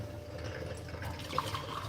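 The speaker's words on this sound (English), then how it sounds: "Boiling hot water into it to sterilize it" Boiling water pours steadily into a mug at close range, a continuous liquid trickle with a few faint drips and splashes.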